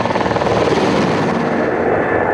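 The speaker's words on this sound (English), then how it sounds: "As the helicopter circled around for another pass" A helicopter circles low over a field, its rotor thumping loud and steady as it passes close overhead, with no talk.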